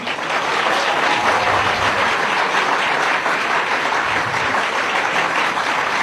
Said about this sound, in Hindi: इस बात पे सबसे ऊंची ताली बज रही है।